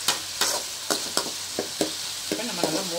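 Salted potatoes are sautéed in a pan. About eight crisp, evenly spaced stirring scrapes sound close over a steady background sizzle of frying oil.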